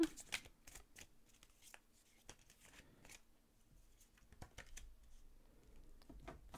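Tarot cards are shuffled and drawn. Soft papery riffles and sharp flicks come in irregular bursts, close and quiet, with no talking.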